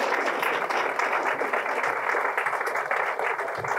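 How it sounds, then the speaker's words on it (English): Sustained applause from a crowd, dense and steady clapping throughout without a break. "Let's give him another round of applause."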